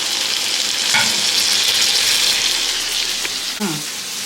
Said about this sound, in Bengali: টমেটো দিচ্ছি, পেঁয়াজের সঙ্গে টমেটো। পেঁয়াজটা আর্ধেক ভাজা হয়ে গেছে।